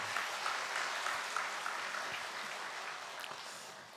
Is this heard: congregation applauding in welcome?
yes